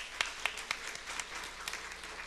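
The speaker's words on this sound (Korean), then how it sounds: "하나님께 영광의 박수를 드립니다." A congregation claps during a church service, the sound quiet and somewhat distant, with a few sharper individual claps standing out from a soft, steady patter over about two seconds.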